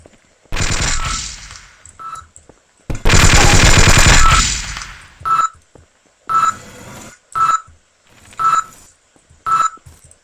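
An automatic turret in the Half-Life video game fires in loud, close bursts, a long rapid rattle followed by a series of short evenly spaced volleys, each paired with a beeping tone.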